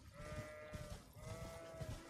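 Sheep bleating in the Elden Ring video game, a few overlapping bleats close by in a steady series, heard alone without talk.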